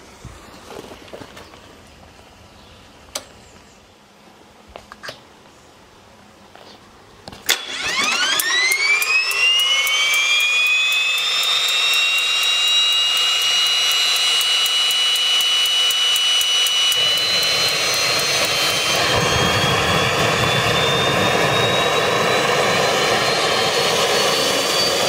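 A turbine engine being cranked for a generator test: a quiet stretch with scattered clicks, then a sudden ignition that spools up into a loud rising whine and settles into a steady, roaring run that lasts to the end.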